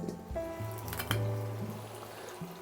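Diluted apple cider vinegar pours into water to soak freshly picked garden vegetables, a steady liquid fill with dripping and trickling tones, close and soft, no talking.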